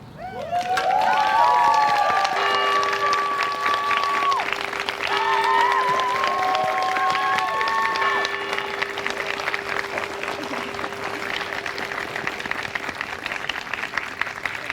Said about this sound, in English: please give a warm round of applause to the married couple